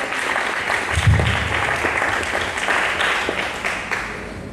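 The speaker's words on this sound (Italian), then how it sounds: "Applauso convinto da finale, per cortesia, grazie" A crowd at a poetry slam gives enthusiastic closing applause, a continuous wash of clapping at moderate distance, with a brief low thump early on.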